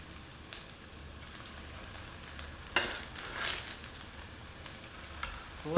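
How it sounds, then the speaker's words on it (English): Cauliflower fritters frying in hot oil at about 350 degrees give a steady, fairly quiet close sizzle with a few louder crackling bursts. "we're just going to get our fritters in and cook them until they're golden brown"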